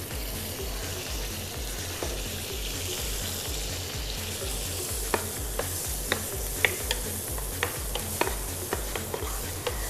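Chopped onions and garlic sizzle steadily in oil and butter in a pan, with a constant frying hiss and sharp clicks of stirring that grow more frequent toward the end.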